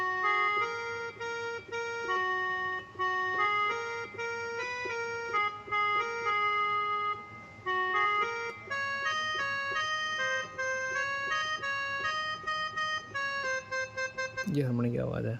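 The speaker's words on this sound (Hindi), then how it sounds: "ये हारमोनियम की आवाज़ है, थोड़ी कम है।" A Yamaha PSS-F30 keyboard plays a melody on its harmonium voice, with reedy sustained notes stepping through a tune at moderate volume over a faint steady backing, ending in a brief clatter.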